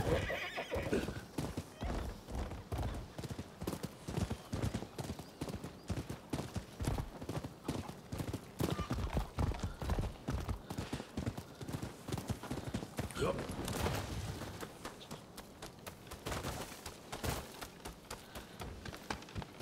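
A horse in the video game Rise of the Ronin, with rapid clip-clop hoofbeats of a gallop and a whinny, loud and close, while someone talks over the riding.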